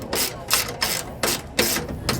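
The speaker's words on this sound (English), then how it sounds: "We can go ahead and take our wrench and tighten that down as well." Wrench tightening a bolt on a Lippert slide-out gear pack of a 2019 Grand Design RV, a close run of five ratcheting bursts in a steady rhythm, each a rapid clicking rasp with short pauses between.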